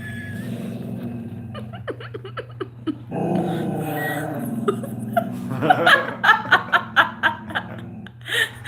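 A dog growls and barks at its own reflection, low rumbling growls building into a rapid series of close, loud barks, with people laughing and chuckling around it.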